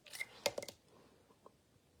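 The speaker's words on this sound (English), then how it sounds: "I'm just going to do it with my scissors" Scissors snipping a thin paper strip, a few quick close crisp cuts clustered in the first moment, followed by quiet with faint handling sounds.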